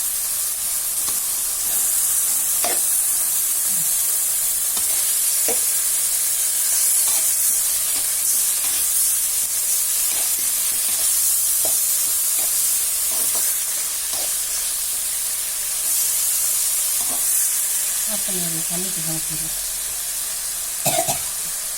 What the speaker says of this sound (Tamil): பட்டாணியை போட்டு நல்லா கிளறி விட்டுக்கலாம்